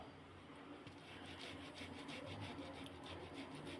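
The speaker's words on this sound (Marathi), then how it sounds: "ह्यात आम्ही बटाटे खिसून घेत आहे बॉईल केलेले व्यवस्थित एकदम बारीक असं खिसून घ्यायचं बटाटा" Boiled potatoes are grated finely for paratha filling, giving a soft, continuous scraping rasp that stays quiet and close for a few seconds.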